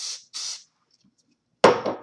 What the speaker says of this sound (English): So now you just want to spray that.